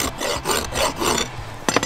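Coarse side of a Heller Pro Finish rasp filing excess horn from a horse's hoof, several close, rough rasping strokes in a steady back-and-forth rhythm, with a sharper scrape at the end.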